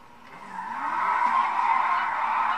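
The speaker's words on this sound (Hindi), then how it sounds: "इसकी इंजन की आवाज सुनते हैं" Car engine in the GTA V video game, a rising, droning tone that swells and holds, with a squealing, skidding edge and no talking.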